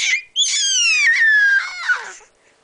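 A child screams loudly and high-pitched for about two seconds after a brief opening shriek, the sound wavering and trailing off at the end.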